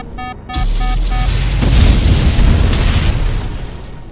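Explosions strike a flying ship under attack, a deep rumbling boom that swells and rolls for several seconds after a brief chiming tone, loud and close, then fades out.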